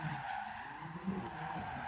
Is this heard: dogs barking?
no